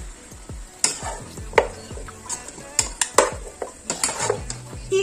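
A spoon stirs chopped carrot half-moons and diced peppers through a pot of Panamanian beef rib soup, giving repeated close scraping and clinking strokes against the pot in an irregular rhythm, with a faint sizzle beneath and no talking.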